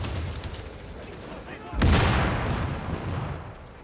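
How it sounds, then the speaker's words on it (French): Gunfire and a burst of small explosions in The Division during a co-op side mission against a patrol, a sudden loud blast midway followed by crackling shots and rumble, with voices talking nearby. "Il fait plein de petites explosions là-bas."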